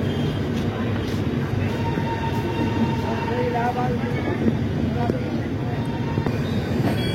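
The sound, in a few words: Humsafar Express train departing Gaya station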